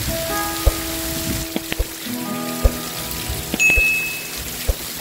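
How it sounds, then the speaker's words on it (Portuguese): Heavy rain falls in the rural backcountry of northeastern Brazil as a steady wash of drops, with scattered sharper drips and taps close by and no talk. "Tá chovendo bastante."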